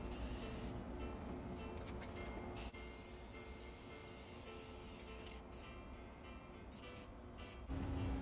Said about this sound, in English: spray paint that leg black